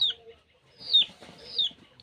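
Soft, high-pitched chirpy clucks from a young chick, a few short calls spaced across the moment, close by and fairly quiet.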